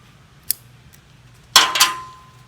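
Scissors cut through greenery stems for a backyard floral arrangement: a light snip, then a sharper, louder crunching cut that rings briefly before fading.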